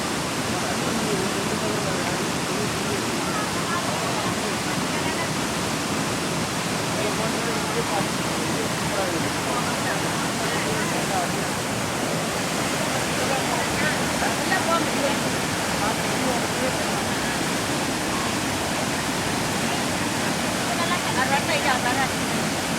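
Rushing water at Muktinath pours steadily in a dense, continuous wash, fairly close and unbroken, with people talking faintly beneath it.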